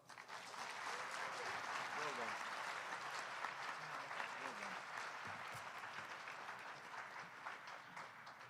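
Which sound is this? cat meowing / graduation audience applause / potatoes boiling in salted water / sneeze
graduation audience applause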